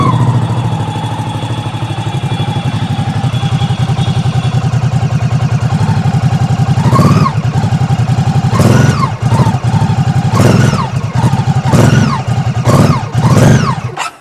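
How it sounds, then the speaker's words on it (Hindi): Ducati Supersport S 2022 twin-cylinder motorcycle idles loud and close for several seconds, then takes a series of sharp throttle blips, each revving up and dropping back, with no talking. "और अब इसको हम देते हैं थ्रॉटल।"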